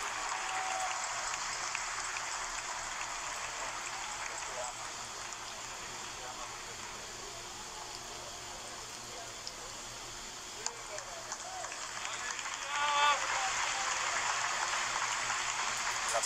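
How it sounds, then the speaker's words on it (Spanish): A church congregation applauds steadily in a dense, rain-like wash of clapping that swells slightly near the end. "Vamos, denle un aplauso al Señor."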